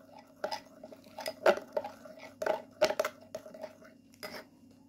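A spoon scrapes and clinks against a small bowl while coffee face mask ingredients are mixed with Johnson baby oil, quiet irregular taps and scrapes close by.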